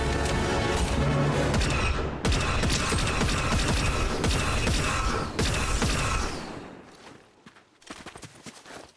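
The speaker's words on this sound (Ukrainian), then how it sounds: "Там іде стрілянина" Rapid bursts of gunfire in the Fortnite video game, loud clattering volleys and mechanical clicks in fast succession that thin out and fade near the end, with no talking.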